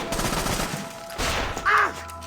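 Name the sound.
sniper gunfire in the video game Assassin's Creed Rogue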